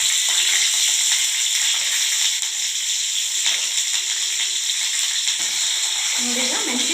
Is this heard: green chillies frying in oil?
yes